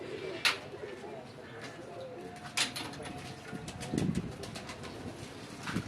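Pigeons coo softly in a loft, low murmuring calls repeating under a faint voice, with a few sharp chirps and wing flutters.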